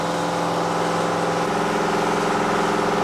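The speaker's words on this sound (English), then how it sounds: "it is a bit noisy, but that's where it is an engine room for. Another generator, generator number 2." A large generator in an ex-New Zealand Navy ship's engine room drones loudly and constantly with a steady mechanical hum and whine, filling the enclosed space without any talking.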